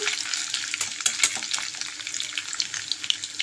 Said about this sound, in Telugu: ఇలా ఆయిల్ ఏడెక్కింది కదా చేపలు వేసుకున్నామండి